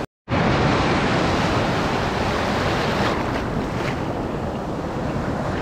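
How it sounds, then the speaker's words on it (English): Atlantic waves break on a Portuguese beach at Praia d'El Rey on the Silver Coast, a loud continuous roar of surf mixed with wind noise on the microphone. "Some of these waves look quite strong"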